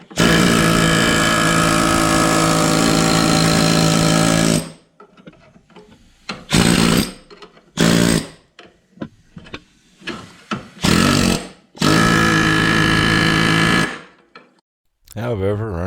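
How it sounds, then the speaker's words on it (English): An air chisel hammers at the rusted outer layer of a rocker panel on a Mercury Sable station wagon. A long continuous burst of loud, harsh rattling is followed by several shorter bursts separated by pauses. "take the air chisel, and as earlier, like we did at the trailing arm bracket, take and use that to remove the outer layer of the rust"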